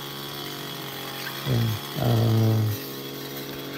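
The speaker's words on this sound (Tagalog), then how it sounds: "Kaya yan, nag-grass cutter siya paikot." A grass cutter engine runs steadily through the background, rising into two louder buzzing bursts of revving, with a brief spoken word near the start.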